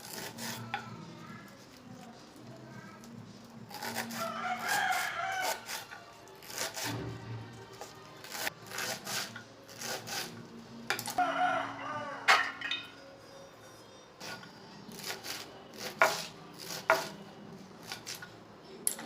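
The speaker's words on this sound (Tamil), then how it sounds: "இப்போ நம்ம கழுவி வச்சுருக்க கீரை அது எல்லாத்தையுமே குட்டி குட்டியாக நம்ம கட் பண்ணி எடுத்துக்கிறோம்" Amaranth stem greens (thandu keerai) being chopped into small pieces with a knife on a board, a series of close, crisp taps that come in uneven clusters, with rooster crowing in the background.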